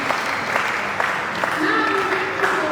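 Applause from a valedictory lecture audience, a brief wash of clapping hands at moderate loudness, with a voice carrying on over it and rising toward the end.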